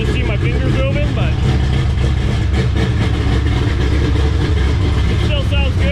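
A 10-second race car idles on the street with its mufflers on, giving a loud, steady, muted rumble close by that lasts the whole time.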